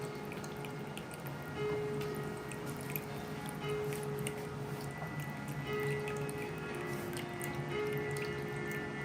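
Water runs and drips steadily in the background, quiet and continuous, with a faint tonal hum underneath; no talking.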